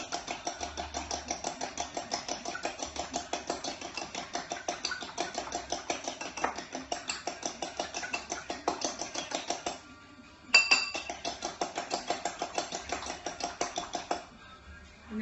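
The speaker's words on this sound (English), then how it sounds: "two eggs, and then I'll just whisk it up." Two eggs beaten with a whisk in a bowl: rapid, steady rhythmic clicking strokes running nearly continuously, with one brief pause before the whisking resumes, close and clear with no talking.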